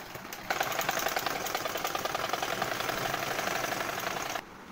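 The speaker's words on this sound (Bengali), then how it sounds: "আরেকটা তাপ সেলাই দিয়ে নেব।" A sewing machine stitches a child's fatua in a steady rapid whir of needle strokes lasting about four seconds, starting and stopping abruptly, close and fairly quiet.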